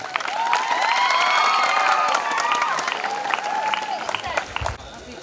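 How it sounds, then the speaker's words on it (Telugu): A college farewell crowd claps to welcome the principal, with dense, loud, continuous applause and scattered cheers and shouts, easing slightly toward the end. "ఎవరో ఒకసారి మీ ప్రిన్సిపల్ గారిని కొంచెం చప్పట్లతో ఆహ్వానించండి"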